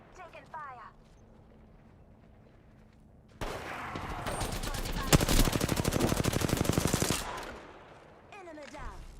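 Rapid automatic gunfire from the Apex Legends video game bursts in after a quiet stretch and rattles on loudly for several seconds. Dense repeated shots are interleaved with sharp impacts, and game voice lines and sounds can be heard before and after.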